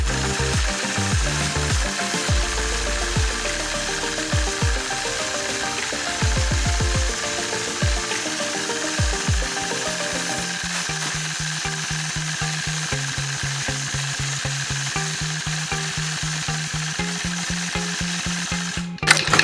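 A quilting machine stitches a horseshoe pattern in free-motion over-under fill across a 2-inch strip, giving a steady, fast mechanical ratcheting hum with rhythmic clicking that runs continuously, close and moderately loud, with no talking.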